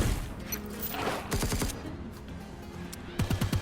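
Isaiah's cannon side signature attack in Brawlhalla fires in a rapid burst of booming shots, with a second quick volley at the end, loud over background game audio.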